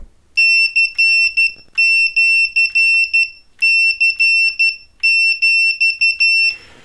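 Rapid bursts of a high, pure electronic tone from an MX K2 Morse code trainer and automatic keyer key on and off in dots and dashes, loud and alone, in several groups.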